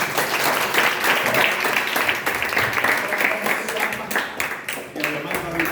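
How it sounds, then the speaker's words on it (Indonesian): Youth congregation at a revival service in Sarangan, Magetan, breaking into sustained applause, dense and loud throughout with some voices mixed in. "Tepuk tangan dulu buat Tuhan."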